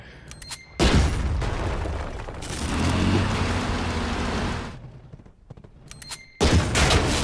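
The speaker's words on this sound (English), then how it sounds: "That autocannon. Hey, it's doing a decent job actually." Autocannon fire in the turn-based strategy game Headquarters: Cold War, heard as a sustained loud burst of rapid shots lasting several seconds, with shorter sharp bursts at the start and end and no talk.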